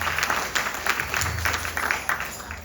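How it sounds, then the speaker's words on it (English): Applause from a gathered audience at a Gita Yagna devotional event, sustained crowd clapping with uneven bursts, moderately loud and continuous with no one speaking over it. "give him another big round of applause, please"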